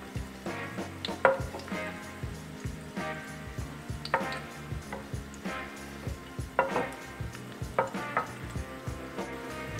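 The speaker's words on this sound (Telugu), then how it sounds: "ఇప్పుడు మనము గ్రీన్ చిల్లీస్ అండ్ గార్లిక్ వేసుకొని కొద్దిగా ఫ్రై చేస్తున్నాం." Green chillies and garlic fry in hot oil with a soft, continuous sizzle, broken by scattered metallic clinks and scrapes of a utensil against the pan, with no talking.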